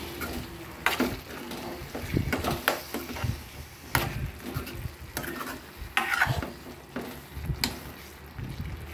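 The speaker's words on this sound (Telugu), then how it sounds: "ఇప్పుడు ఒకసారి తిప్పుకుందాము" Thick chole masala curry being stirred in a pan, with irregular scrapes and knocks of a spoon over a low bubbling sizzle, close and moderately loud.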